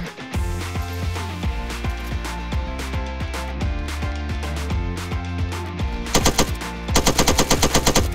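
Sustained bursts of automatic gunfire fill a platoon field training exercise, loud and dense, ending in a rapid, steady string of close shots.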